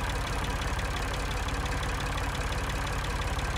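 An old generator engine in the video game Geheimakte Tunguska runs at a steady idle, a rhythmic low chugging hum that continues evenly and alone throughout.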